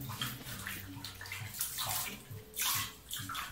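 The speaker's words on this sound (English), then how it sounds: "Rinse it multiple times and use lukewarm, almost cold water" Running water splashes steadily as a wig of hair is rinsed under a lukewarm-to-cold stream, with surges and brief lulls in the flow over a few seconds.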